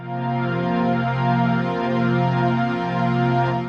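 A simple synthesizer pad holds one sustained chord, smooth and steady, with a rich stack of harmonics and gentle slow swells in level, alone and loud throughout.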